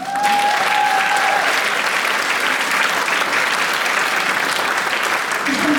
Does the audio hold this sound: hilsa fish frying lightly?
no